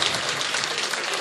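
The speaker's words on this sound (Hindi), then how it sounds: "लिए आप जोरदार तालियां बजाइए।" An audience at a mushaira poetry gathering in Ludhiana bursts into brief, dense applause, a short burst of steady clapping.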